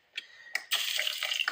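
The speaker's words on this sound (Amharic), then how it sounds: "ውሃ አረግበታለሁ።" Water is poured onto a piece of work at home in a few quick splashing bursts followed by a longer, steady pour, close and fairly quiet, with no voices.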